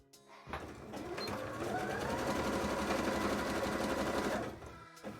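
Sewing machine stitching cosplay fabric for a Pokémon costume, a steady close whirring run of rapid needle strokes lasting several seconds before stopping.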